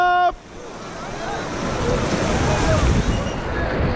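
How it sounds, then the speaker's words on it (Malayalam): River water surges after a dam release on the Kundalika during a rafting trip, a loud rushing roar that builds after a short tone at the start, with wind buffeting the microphone. "ഡാമൊക്കെ തുറന്നു വിട്ട് ഇവിടുത്തെ സിറ്റുവേഷനൊക്കെ മാറി വെള്ളമൊക്കെ കുത്തി ഒഴുകി വരുന്ന ഒരു പ്രതീതിയാണ് ഇവിടെ കാണാനുള്ളത്"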